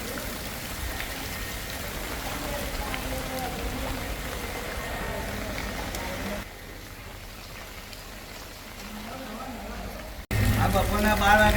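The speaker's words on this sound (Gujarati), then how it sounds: "સિમરડા ગામમાં 15 ઇંચ વરસાદ બપોરે 12 વાગ્યાથી ચાલુ થઈ" Heavy monsoon rain pours steadily over a flooded village in Gujarat after about fifteen inches of rainfall, a dense, constant hiss of water close by that drops briefly before returning louder, with voices faintly underneath.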